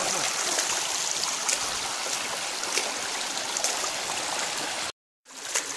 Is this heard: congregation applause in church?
no